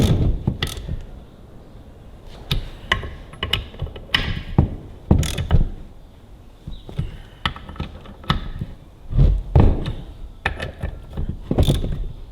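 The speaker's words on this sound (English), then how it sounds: "I'll go and find my ratchet" A hand ratchet clicks in quick irregular bursts while tightening on a Ferguson TEA20 tractor, close and crisp, with short pauses between strokes and light workshop clatter.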